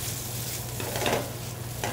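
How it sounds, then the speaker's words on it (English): Garlic sautéing in a pan with a splash of white wine, salt and pepper, giving a steady close sizzle with soft stirring scrapes throughout, no voices. "give it a little saute, got garlic, okay."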